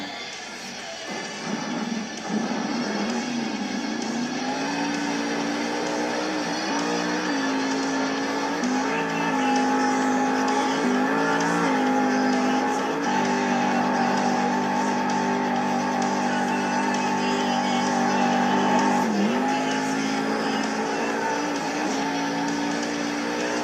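Avenger monster truck at a Monster Jam stadium show in Indianapolis, its engine roaring loud and steady throughout with rising and falling revs as it lines up for a step-up ramp and a sky wheelie.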